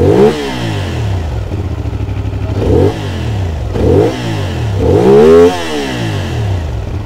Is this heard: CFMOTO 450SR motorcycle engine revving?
yes